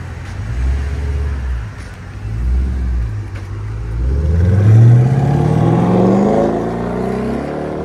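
A 2023 Dodge Durango 5.7L HEMI V8 with Netami Turbo mufflers rumbles at idle, then revs up with rising pitch and a throaty exhaust roar before easing back down, close and loud.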